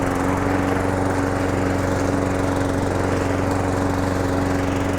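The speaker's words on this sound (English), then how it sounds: "you need to be cutting it on the highest setting you've got on your mower" A lawn mower runs steadily through long grass, its engine hum loud and continuous with a constant drone and no talk over it.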